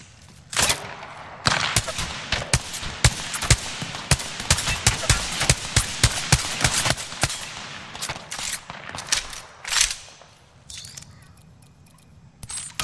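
Apex Legends gunfire rattles in rapid bursts of sharp, loud shots, with dense volleys through the middle that thin out to a few scattered cracks near the end.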